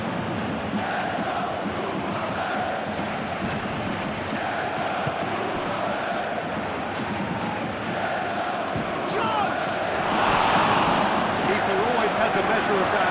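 A stadium crowd roars continuously in the football video game PES 21, a dense steady wash of distant cheering and chanting, swelling slightly louder near the end, with a commentator's voice talking over it.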